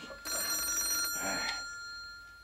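A telephone bell rings in a steady trill for about a second, then rings again more briefly and fades, clear and close in a quiet room.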